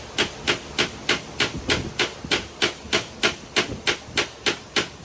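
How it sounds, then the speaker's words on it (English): A hammer repeatedly strikes a metal wheel tub being fitted into a bagged truck bed, producing sharp, ringing metallic blows in a steady rhythm of about three per second, loud and close with no talking. "Angle your hammer just like that, and now hit it."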